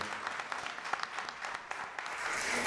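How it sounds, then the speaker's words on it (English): A crowd claps steadily, growing slightly louder toward the end. "can I get a round of applause for Jeremy Beaver, who put all this together?"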